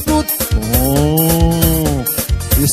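A young ox lowing in one long, loud, drawn-out moo with a falling pitch, heard close and alone amid brief rustling at the start and end.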